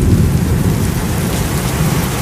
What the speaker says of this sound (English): Rain is really heavy.